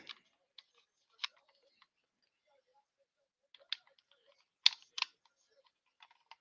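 Scattered keystrokes on a computer keyboard: sparse, faint clicks in small clusters with quiet gaps between them, heard close up and alone.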